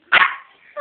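One sharp, close dog bark rings out indoors, followed by a brief faint yip at the very end.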